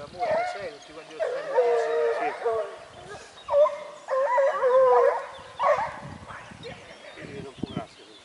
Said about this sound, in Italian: questi cani sono una razza francese, si chiama Griffone della Vandea